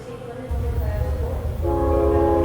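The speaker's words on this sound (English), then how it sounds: "The train is also departing." A train in wartime Ukraine pulls out of the station, a low rumble of wheels and carriages building steadily, with a sustained horn-like tone rising near the end; nearby voices murmur beneath it.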